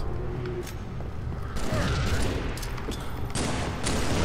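Gunfire in the Halo 3 video game, including a sniper rifle shot, sounds as dense, continuous booming bursts and layered explosions that fill the whole stretch with loud, crowded battle noise.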